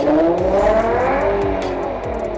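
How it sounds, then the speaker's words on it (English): Infiniti FX35 engine revving loudly and steadily up and down in pitch, close and alone with no voices. "The FX35 has a nice sounding engine."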